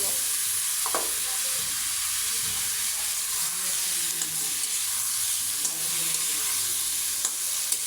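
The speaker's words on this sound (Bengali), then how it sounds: "মশলাগুলো কষানো হয়ে গেছে, এখন দিয়ে দেবো সবজিগুলো।" Vegetables sizzle steadily in a pan over browned spices for a Bangla fish curry, a continuous bright frying hiss with occasional soft stirring clinks, close and fairly loud, no voices.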